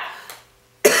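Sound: cough

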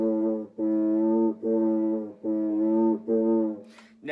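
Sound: friction drum, wet sponge rubbed on bamboo stick

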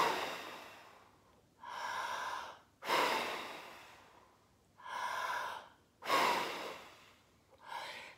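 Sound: big breaths blowing out

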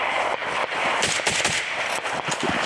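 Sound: gunfire shooting at a trench

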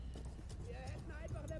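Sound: horse hooves in video game Battlefield 1

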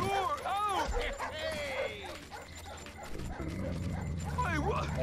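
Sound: dogs barking in a video game

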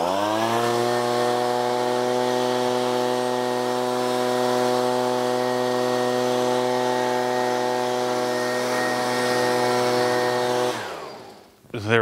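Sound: leaf blower blowing water off a car

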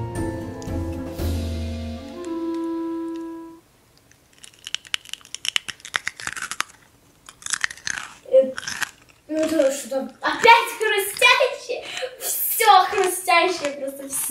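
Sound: crunching a pickled cucumber

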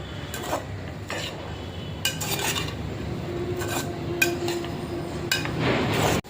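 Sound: vegetables being sautéed and stirred in pan

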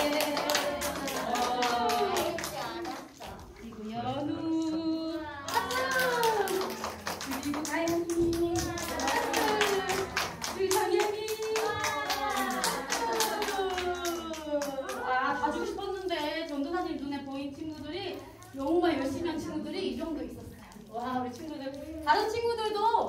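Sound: audience clapping

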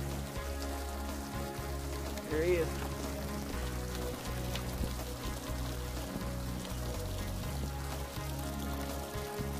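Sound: rain falling while fishing

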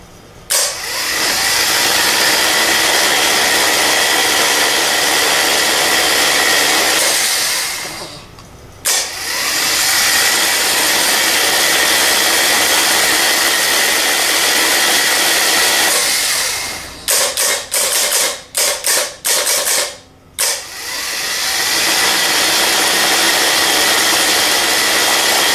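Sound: starter motor running at full speed

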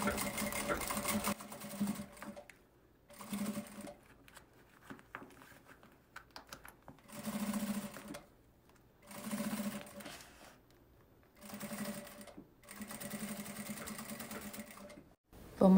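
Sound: sewing machine stitching plastic pocket seam

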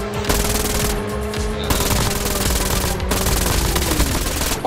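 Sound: gunfire in the video game Call of Duty Mobile

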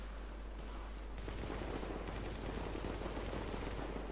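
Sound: gunfire in the video game The Division

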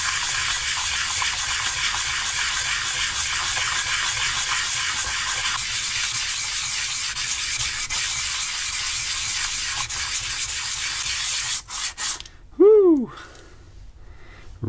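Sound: lapping an AMD FX CPU with 120 grit sandpaper

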